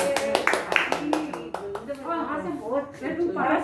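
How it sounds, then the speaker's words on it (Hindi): Clapping at a family birthday gathering: a handful of sharp claps in the first couple of seconds, mixed with voices talking and singing close by. "ताली बजा दो भाई"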